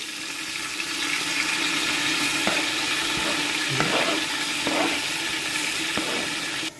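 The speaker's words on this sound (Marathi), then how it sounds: "कांदा चांगल्या प्रमाणे शिजू द्यायचा, थोडं लाल करायचं कांद्याला।" Onions frying in a pan until reddish for chicken pulao, a continuous hiss of sizzling oil with occasional scraping stirs and clinks, fairly loud and steady, no talking.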